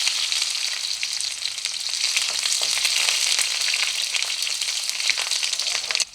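Whole spices and chopped onion tempering in hot oil for a misa mas dish, a dense, bright, continuous sizzle heard up close with faint crackles and stirring, no voices.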